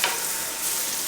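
Turkey quesadilla frying in butter in a pan, giving a steady, close, broadband sizzle that holds level throughout with no talking.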